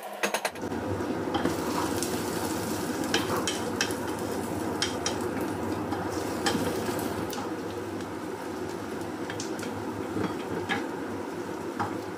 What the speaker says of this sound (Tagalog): Malapit na maluto guys ang ating onion.